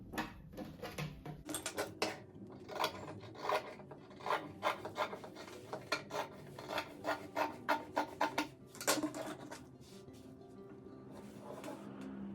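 Repeated rasping strokes of shears or a rotary cutter slicing through patchwork fabric while making a rug, close and steady, a rhythmic series of short scraping cuts with no talk.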